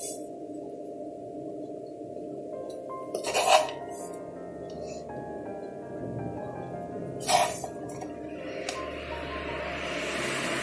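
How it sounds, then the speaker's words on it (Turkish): Metal spoon scraping and clinking against a dish while fried minced meat is spooned into bread, with two sharp clanks standing out against a steady kitchen background hum. "kavrulan kıymalarımızı şimdi ekmeğimizin içine dolduruyoruz"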